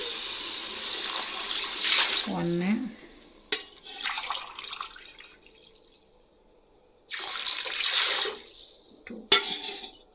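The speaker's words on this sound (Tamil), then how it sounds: "5 டம்ளர் தண்ணி ஊற்றணும்." Water poured from a tumbler into a pot while cooking coconut milk rice, splashing and trickling in two separate pours with a quiet gap between them, a voice speaking briefly over the sound.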